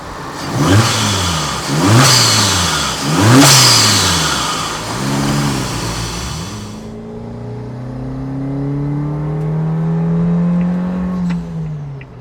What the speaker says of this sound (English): The noises that this car makes are epic.